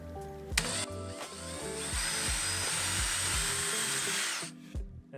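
A power drill bores a pilot hole into cedar for a modern slatted mailbox, its motor whining steadily for about four seconds at close range between brief starts and stops.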